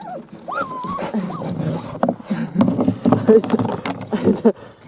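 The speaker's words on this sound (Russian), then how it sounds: "Вон там такая маленькая собачка." A small dog in a village yard makes short whimpering and yapping sounds close by, with people talking over it.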